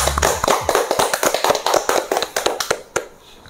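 A small group claps hands on an Indonesian talk show set, a quick run of loud, close, crisp claps in a steady rhythm that stops abruptly near the end.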